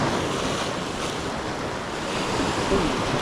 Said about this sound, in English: Got like a bit of white water like this, bit of a swell and turquoisey water.